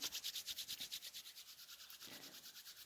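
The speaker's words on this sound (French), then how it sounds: "on frotte les mains et on sent ce qui se passe dans les mains" Hands rubbed together quickly during a self-massage, a close, soft swishing friction in a fast even back-and-forth rhythm that gently fades a little.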